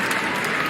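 A dense, steady roar of a stadium crowd cheering and clapping at a Chicago Bears versus Cleveland Browns preseason football game, loud and continuous for a brief moment.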